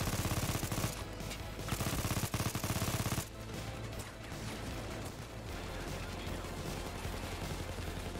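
A gun in Payday 2 VR fires in rapid automatic bursts, loud, dense, rattling volleys that fill the first few seconds, then give way to continued quieter shooting and clatter.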